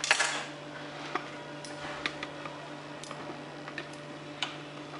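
A knife chops peeled tomatoes into small pieces on a board for homemade puree, giving a sparse series of light, sharp taps at irregular intervals against a low steady background hum.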